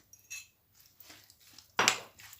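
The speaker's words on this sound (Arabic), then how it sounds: "واخلطهم تمام كده علشان البهارات تتقلب مع الخضار بالطريقة ديت والليمون كده" Lemon juice, spices and vegetables are mixed in a bowl for a fish tray marinade, producing quiet clinks and scrapes of a utensil against the bowl in short bursts, with a louder knock near the end.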